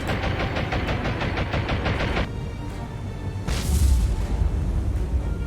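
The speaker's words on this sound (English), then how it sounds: "That was a nice secondary explosion." A heavy, rumbling blast erupts partway through as a struck ship suffers a secondary explosion in the naval video game War on the Sea, following a stretch of rapid rhythmic pulses. No voices are heard.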